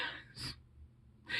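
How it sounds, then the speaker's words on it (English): A person gasps for breath with a quick double inhale: two short, sharp breaths drawn in about a second apart, close and fairly quiet. "I had to do a double inhale on that. Like it's almost like I couldn't catch my breath."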